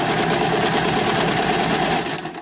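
Sewing machine stitching a comforter, a close, steady, fast mechanical whir that runs continuously and eases off just at the end.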